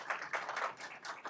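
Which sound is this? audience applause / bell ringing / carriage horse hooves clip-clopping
audience applause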